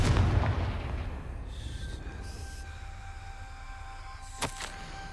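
A Confringo fire spell from Hogwarts Legacy goes off in a loud, booming explosion at the start, its rumble slowly fading into a low roar, with a sharp crackle and brief chimes later on.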